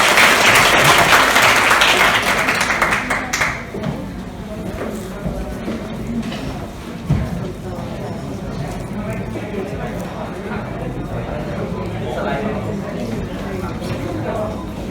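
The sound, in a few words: audience applause at a seminar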